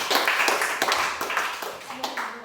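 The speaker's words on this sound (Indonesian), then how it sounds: "Tepuk tangan semuanya" Students in a primary school classroom clap in a few short bursts under a teacher's talking, fairly close and moderately loud.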